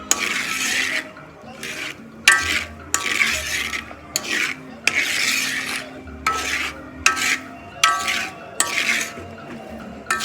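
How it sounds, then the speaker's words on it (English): A spoon scrapes and stirs through groundnuts frying in a pan, in about a dozen rhythmic strokes with short pauses, close up and without talk. "This is how you will continue turning the groundnut."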